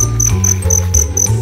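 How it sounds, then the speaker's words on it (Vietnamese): A male cricket chirps up close in a garden, loud and clear, in a quick regular run of shrill pulses over a faint low hum. "Đây con dế trống nha"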